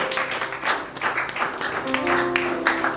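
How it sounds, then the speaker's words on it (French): A church congregation clapping for Jesus after a bilingual sermon, steady, close, loud rhythmic applause with voices calling out and talk over it. "Clap for Jesus"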